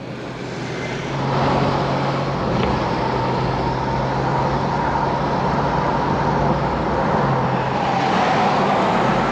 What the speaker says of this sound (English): Still dealing with San Juan traffic.